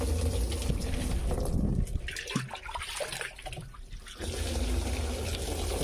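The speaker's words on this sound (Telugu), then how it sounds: "తేటగా తేలిన నీళ్ళు మనం వడబోస్తున్నాం" Settled soil-solution water pours and trickles steadily through a sari cloth filter, splashing as it runs into a container, with a brief quieter lull midway before the flow resumes.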